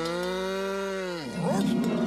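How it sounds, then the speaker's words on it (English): A cartoon cow lets out a long, loud, sustained moo that bends down in pitch near its end, followed by a rougher burst of noisy sound in an animated Bobby's World episode. "take Roger Cow to market, sell him for as much as you can"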